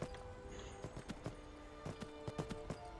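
Horse hooves clip-clopping in the video game Skyrim, a steady walking rhythm of clear hoofbeats over a low ambient game background, with no talk.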